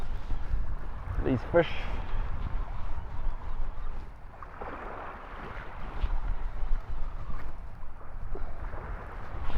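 A motor launch runs through a harbour, a low, steady engine drone that swells and fades under wind noise, with someone talking over it at the start.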